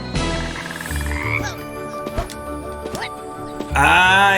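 A frog character in the video game Wonderbox croaks loudly and repeatedly at close range, with deep throaty calls over a busy game soundtrack.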